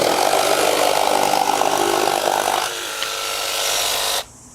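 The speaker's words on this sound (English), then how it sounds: "That was actually the nicest auto start I've felt on a jigsaw" A Milwaukee M12 Fuel cordless jigsaw runs loud and steady with a dense buzzing whine, its tone shifting partway through before it cuts off abruptly; no voices.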